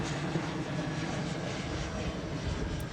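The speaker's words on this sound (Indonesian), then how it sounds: "Ada pesawat lewat." Airplane passing overhead at night, a broad steady engine roar filling the whole stretch, loud and constant, with no speech over it.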